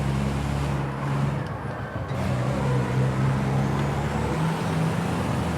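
Racing truck from ETRC at the Jarama circuit drifting through a corner, its engine a steady loud low drone with shifting pitch throughout, no voices over it.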